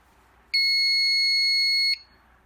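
A commercial fire alarm panel's supervisory signal sounds as a single steady electronic tone lasting about a second and a half, loud and clean against a quiet room.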